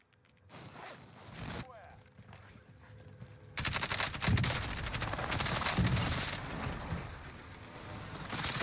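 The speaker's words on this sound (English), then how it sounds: "Shots" Rapid gunfire from a Call of Duty Warzone fight on Rebirth Island: bursts of shots begin early, then a heavier, louder stretch of sustained automatic fire runs to the end, with a player talking intermittently underneath.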